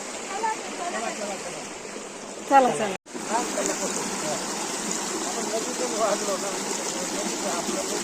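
The swollen river at Pahine waterfall near Trimbakeshwar rushes in a steady, loud broadband roar, with a brief voice calling out partway through.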